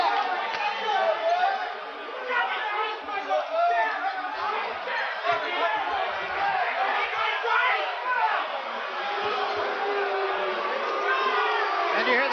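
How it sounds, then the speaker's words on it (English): A large arena crowd at a Mike Tyson boxing fight gives off a dense, steady roar of massed voices, loud and unbroken from start to finish. "It's the first time I've ever heard a crowd boo at a Mike Tyson fight"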